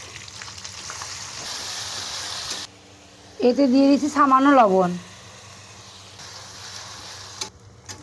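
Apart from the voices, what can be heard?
onion, garlic and ginger paste frying in oil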